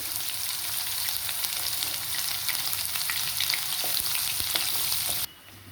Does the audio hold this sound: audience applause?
no